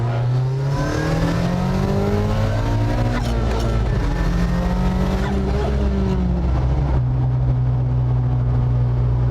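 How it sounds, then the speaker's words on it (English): A 2020 Volvo P1800 Cyan engine revs hard while driving, loud and close, its pitch climbing and dropping through repeated throttle pushes with gear changes, alone without talk. "Isn't it nice when you sort of work the engine?"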